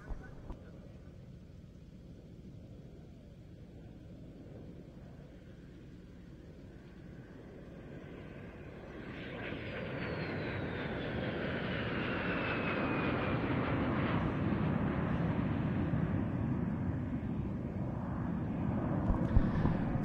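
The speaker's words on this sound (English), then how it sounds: "the first jet aircraft on which RAF pilots gained their wings at the last stage of the flying training school syllabus" At an evening air display, a de Havilland Vampire jet approaches from afar, its engine rumble and whine swelling steadily louder as it nears, with a voice talking over it.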